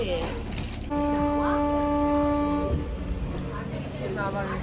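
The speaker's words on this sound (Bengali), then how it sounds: "ট্রেন ছেড়ে দিল" A departing train sounds a long, steady horn tone that is loud and close, over a murmur of crowd and station noise.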